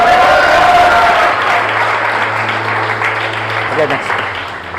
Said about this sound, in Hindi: तुम्हारा जोरदार ताली बजाओ प्रभु के लिए।